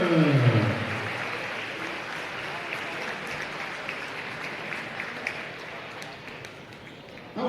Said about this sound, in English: Ladies and gentlemen, one more round of applause for our senior Jordan